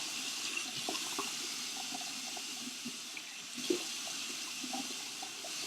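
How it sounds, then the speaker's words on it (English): Water runs steadily from a bathroom sink tap while a face is rinsed, a close, constant hiss with small splashes and drips. "So I'm going to go ahead and rinse my skin."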